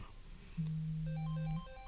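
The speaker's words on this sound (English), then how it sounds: "the phone is still ringing" A telephone rings for an incoming call, a single steady electronic ringtone tone that lasts about a second, with fainter higher ring tones following at moderate level.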